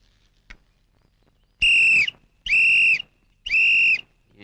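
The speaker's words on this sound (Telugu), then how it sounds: "ఏంట్రా విజిల్ కొడుతున్నావు?" Three loud, sustained whistle blasts in an even rhythm, each lasting about half a second with short pauses between, preceded by a faint click.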